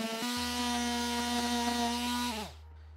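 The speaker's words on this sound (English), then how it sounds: "I'm gonna sand some of the PVC pieces to get some of the paint off." A powered tool sands painted CPVC pipe pieces with a loud, steady buzzing whine, and the motor winds down and stops shortly before the end, leaving a low hum.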